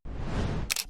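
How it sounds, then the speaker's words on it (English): A rushing swoosh sweeps through, ending in a sharp mechanical camera shutter click. "take one of the camera flick noises that we used earlier"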